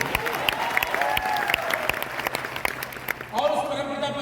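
Crowd applause at a motivational speech event for a coaching centre: brisk, scattered clapping from a large audience, with a voice or tonal sound riding over it toward the end.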